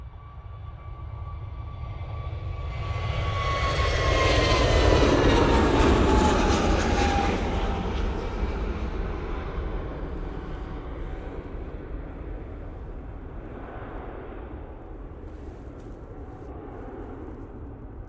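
An EasyJet airliner departing Manchester Airport, a loud jet roar that swells to a peak and then fades away into the distance, heard alone.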